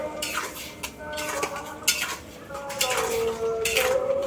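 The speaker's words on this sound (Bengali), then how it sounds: "এবার এটাকে খুব ভালো করে নাড়তে থাকতে হবে" A spoon scrapes and knocks against a pot while raw mango and sugar are stirred, irregular metallic clinks and scrapes up close, with faint background chirps.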